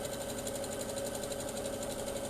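A sewing machine stitches a quarter-inch seam around a fabric bowl cover, a close, steady rapid mechanical clatter running without a break.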